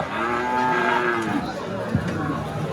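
A bull calf at a cattle market in Rustampur, Rajshahi, gives a long, loud, close moo with a second shorter call, over a faint crowd murmur.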